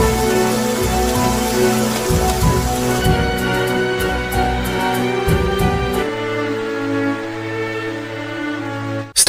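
Rain falls steadily on a surface outside a villa, a dense constant patter with no voices over it.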